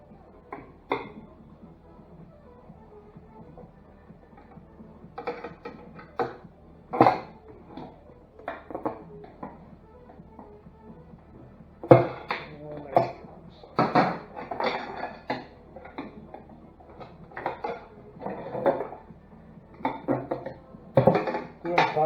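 Metal tire spoons lever a tire onto the front wheel rim of a 2006 Honda ST1300, giving scattered clinks, scrapes and knocks that turn busier and louder in the second half, close by.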